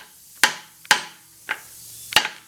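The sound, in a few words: brass hammer tapping harmonic balancer into place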